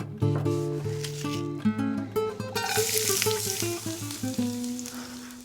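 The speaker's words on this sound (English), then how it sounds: "I'm going to add a little film of olive oil. And then slice half an onion to saute until it's brown." Sliced onion sautéing in a thin film of olive oil in a skillet over medium-high heat, a continuous close sizzle with a prominent musical hum and tones running over it throughout.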